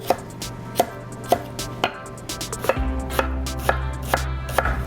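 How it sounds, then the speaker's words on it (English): A knife chops red onion into a fine brunoise on a cutting board, with crisp, evenly spaced strikes that are close and loud, about two per second, over a low steady background hum and no voices. "We're going to start with just a brunoise red onion."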